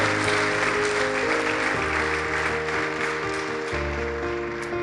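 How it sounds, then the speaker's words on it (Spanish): A church congregation applauds steadily through a morning service, the clapping spread evenly over sustained keyboard music that holds underneath throughout. "Démosle palmas fuertes al Señor, por favor, esta mañana."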